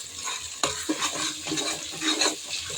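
Masala for mutton biryani sautéing in a pan, a steady close sizzle broken by scraping stirs, with no talking.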